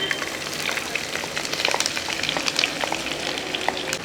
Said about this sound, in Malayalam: ഇതെന്നെ ഇളക്കി ഇത് വഴറ്റിയെടുക്കണം